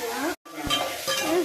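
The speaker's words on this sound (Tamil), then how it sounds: "இப்போ நம்ம நெய் ஊற்றிக்கலாம்." Ghee is poured into a hot pan of sathumavu pancake batter and sets off a brief, close, hissing sizzle after a short dropout at the start, with faint talk over it.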